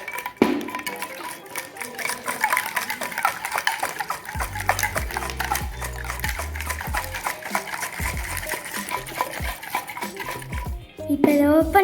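A closed jar of kulukki sarbath juice is shaken hard, its contents rattling and sloshing in dense rapid bursts, with brief voices and a clink near the end.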